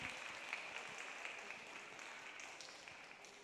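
Steady audience applause at a Tahitian dance recital, a dense wash of clapping hands that holds evenly throughout, moderately distant.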